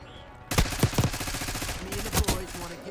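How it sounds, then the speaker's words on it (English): Assault rifle fire in a video game, a quick string of sharp, punchy shots in short bursts with a few louder cracks standing out, fairly close and distinct. "I'm so tired of using this fucking assault rifle."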